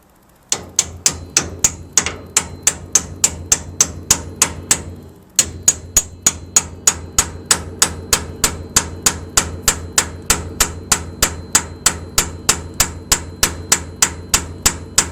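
A hammer drives a new king pin into the steering spindle of a 1936 Ford, making steady, evenly spaced sharp metallic blows, loud and close, with one brief pause early on before the rhythm resumes.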